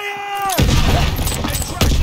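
A loud volley of gunfire erupts in a World War II battle scene in Call of Duty WW2, after a brief voice, with dense overlapping shots and a fresh burst near the end.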